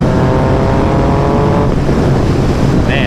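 A Yamaha FZ-09 motorcycle accelerating hard on the road: loud, continuous engine roar with rising tone that shifts partway through, heavy wind rush throughout, no talk.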